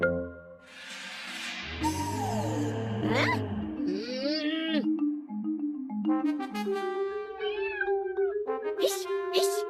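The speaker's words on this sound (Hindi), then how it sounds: "अरे भाग कलूटी बिल्ली" A cat meows repeatedly, drawn-out and wavering cries close by, some rising into whiny yowls with brief gaps between them.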